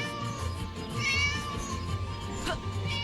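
A cat meows insistently a few times over a steady background hum, its cries rising and falling in pitch.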